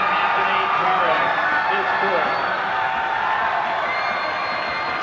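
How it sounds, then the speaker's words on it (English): A high school basketball crowd in the stands cheering for Miami Senior High at a 1993 state title game, a dense steady roar of voices filling the gym under a commentator's talk. "Crowd beginning to celebrate in the stands for Miami."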